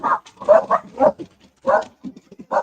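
Dogs bark at a mailman, close and loud, in a rapid, uneven string of barks, yips and whimpers with brief gaps between bursts.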